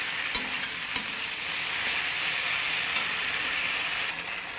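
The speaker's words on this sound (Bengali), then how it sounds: "এখন শুধু মিক্স করছি, মিক্স করে 5-10 মিনিটের মতো ভেজে নেবো কচুলতাটাকে।" Chopped taro stems (kochu lata) sizzle steadily in a hot pan while being stirred, a continuous close frying hiss broken by a few sharp clicks of a spoon against the pan.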